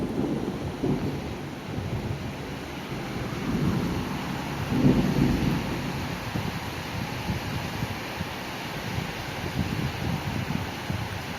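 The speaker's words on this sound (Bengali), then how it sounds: "বাইরে তো বৃষ্টিটা বেশ ভালোই পড়ছে।" Heavy rain falling outside in summer with rolling thunder, a dense, continuous downpour hiss and a low rumble that swells around the middle, with no voices.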